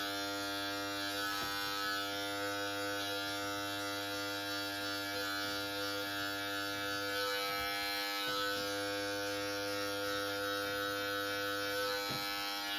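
Electric beard clippers trimming a beard, a close, steady, continuous buzzing drone with slight changes in tone as the blade moves through the hair.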